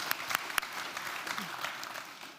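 Audience applause at an academic talk, a moderate wash of clapping with a few sharp nearby claps early on, thinning slightly toward the end, with faint voices underneath.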